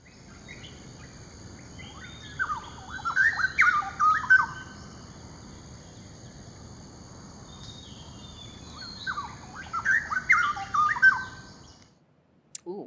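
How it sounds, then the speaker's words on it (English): A pair of straw-headed bulbuls sing a duet in two bursts of rich, bubbling warbles over a quiet hiss, with a lull between the phrases. "now we'll show you a duet sing by a pair of straw-headed bulbuls"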